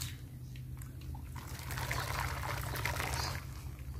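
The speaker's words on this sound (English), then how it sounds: "Make sure the water reaches on all the feathers." Hot water poured over the feathers of a slaughtered chicken in an African village, a steady splashing pour that swells louder in the middle and then eases, heard alone at close range.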